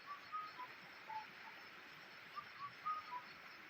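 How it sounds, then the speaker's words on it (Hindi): A kafal pako bird calls in a Himalayan forest on a mountain trail, short clear whistled notes repeating at intervals, faint and distant over a steady hiss of background noise. "वो पंछी बोल रहा है काफल पाचो।"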